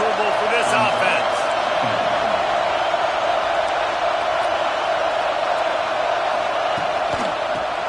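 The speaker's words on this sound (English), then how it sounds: "This crowd trying to make life miserable for this offense" Stadium crowd at a football game, a continuous loud roar of many voices with scattered whoops and shouts rising near the start, then settling into a dense, even din.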